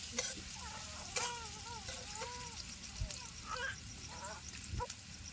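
Tomatoes tipped into frying onions in a pan give a faint, steady sizzle with occasional stirring scrapes, while a voice talks over it and birds call in the background.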